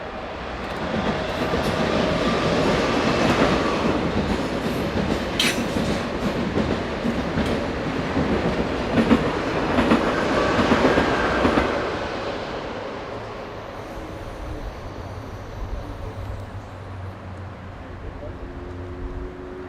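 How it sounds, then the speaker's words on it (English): French TGV high-speed train number 4703, running from Frankfurt to Paris, rounds a curve on the rails with a loud sustained rumble and rushing roar for about twelve seconds, then fades as it moves away. "French TGV number 4703 rounds the corner with the 1656 from Frankfurt to Paris."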